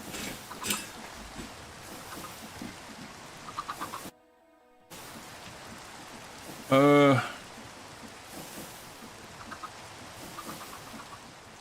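Rain in modded Minecraft, a steady hiss of falling drops interrupted by a brief dropout and a short tonal burst, with chickens clucking faintly nearby.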